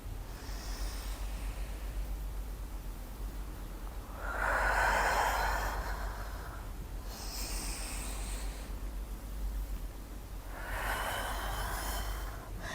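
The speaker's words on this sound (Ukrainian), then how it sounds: "Робимо глибокий вдих. І видих." Deep breath in and slow exhale during postpartum recovery joint exercises, a couple of soft airy breaths over steady low background hum, with no talking.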